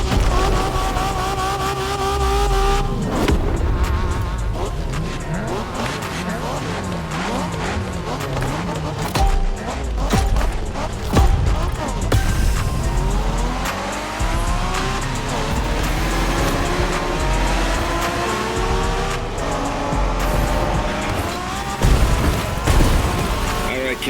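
Cars in a Japanese street-racing video game roar and rev loudly, with shifting engine pitch, tire squeals and skids, under continuous music and game voices.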